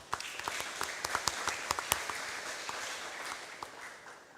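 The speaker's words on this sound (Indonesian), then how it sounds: "Oke, sekali lagi kita beri tepuk tangan, ya." Scattered audience applause at a flag ceremony for Heroes' Day, individual sharp claps standing out over a soft, diffuse patter, fairly quiet and distant.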